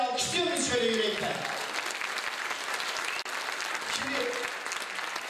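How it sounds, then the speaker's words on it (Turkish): Concert audience applauding a choir and orchestra at a volunteer concert in Çekmeköy, a dense, steady clapping that fills the room from start to finish, with a voice briefly audible at the opening. "koromuzu ve orkestra arkadaşlarımızı bir alkışlamanızı istiyorum sizlerden"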